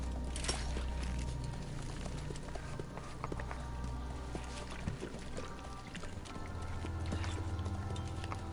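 Steady clip-clop of horse hooves at a trotting rhythm in Metal Gear Solid V over a low rumbling game soundtrack, continuous and fairly close.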